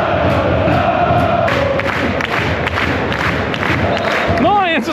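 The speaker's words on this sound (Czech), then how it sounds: "Tady se tleská aspoň," Football fans in the stands clapping and cheering at a Czech match in Plzeň, a dense roar of crowd noise with chanting and applause filling the stadium, steady and loud throughout.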